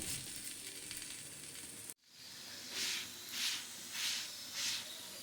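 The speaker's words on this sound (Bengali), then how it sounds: "একই রকমভাবে সমস্ত পরোটাগুলো আমি ভেজে নিচ্ছি" Beetroot paratha fries in a pan with a steady hiss of sizzling oil. The sound cuts out briefly, then comes back in several soft, rising-and-falling swells of crackling.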